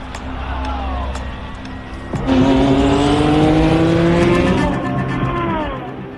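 Ferrari Formula 1 race cars screaming past at high revs, with rising and falling engine whines that swell loudly midway as one car closes in, sustained and near.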